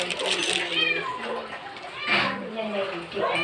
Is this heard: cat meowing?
yes